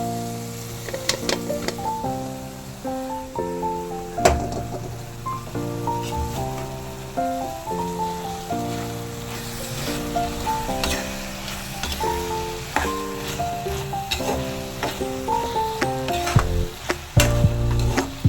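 Carrot halwa cooked with milk, jaggery and sugar sizzling as ghee is added in a pan, a soft continuous bubbling sizzle under prominent melodic background music.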